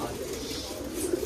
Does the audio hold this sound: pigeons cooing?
yes